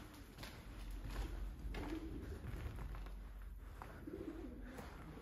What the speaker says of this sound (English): All you can hear is all the birds.